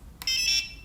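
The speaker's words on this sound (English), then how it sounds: "You press the button and the buzzer works." An Arduino game-night buzzer set off by pressing an arcade button gives a short, steady electronic tone lasting under half a second, preceded by a faint click.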